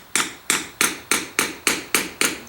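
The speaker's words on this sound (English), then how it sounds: "I take a small ball peen hammer and I just tap it straight down" Small ball peen hammer tapping straight down on leather while making an axe cover, seven sharp, evenly spaced strikes about every third of a second, close and clear with no talk.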